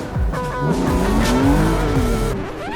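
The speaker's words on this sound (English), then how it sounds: "Edwin's never done a skid before, I don't think, right?" Car tyres squeal and skid across slippery tarmac at Thruxton, a sustained wavering screech over a loud engine for nearly three seconds, with no talk.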